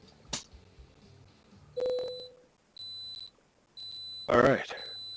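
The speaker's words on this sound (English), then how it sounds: "What is beeping?" Electronic beeps in the American Truck Simulator video game: a sharp click, then several steady tonal beeps of varying length separated by gaps, with a louder, noisier burst near the end.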